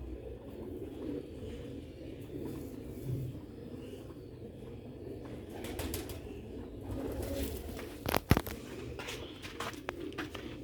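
A pair of pure black-faced Sialkoti pigeons cooing softly in low repeated murmurs, with scattered sharp clatters and a brief loud knock near the end.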